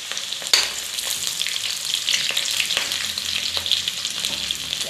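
Onions fry in hot oil, browning with a steady, close, dense sizzle and a few faint stirring clicks, and no voices.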